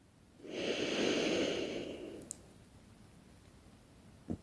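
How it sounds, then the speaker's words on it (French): A single slow, deep breath taken during a guided meditation, a soft airy rush lasting under two seconds, close and quiet, followed by near silence and a faint click. "tu peux prendre une grande respiration"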